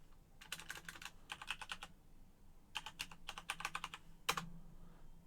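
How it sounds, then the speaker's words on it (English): Fingers type a password on a computer keyboard in three quick bursts of clicky keystrokes separated by short pauses, finishing with a firmer press; faint and close, with no speech. "then press enter, then type in the password"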